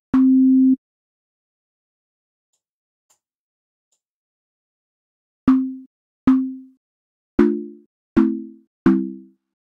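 A SynthMaster One tropical house lead sounds once as a short sustained note, then after a silence five plucky notes decay quickly, the last three richer and chord-like.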